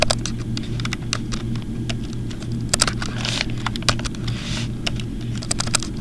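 Quick, close clicks of typing on a computer keyboard, irregular bursts of keystrokes over a steady low background hum, with no talking.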